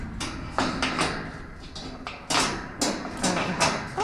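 A heavy bolt locks a sturdy double door on a large mammal isolation enclosure built to hold bears. The close metal latch gives several knocks, slides and thuds in an irregular run.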